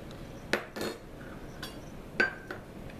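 Salt and flour are mixed in a bowl for Southern-style chicken and dumplings: a handful of quiet, close utensil clinks and taps against the bowl, irregularly spaced, with soft rubbing between and no talk.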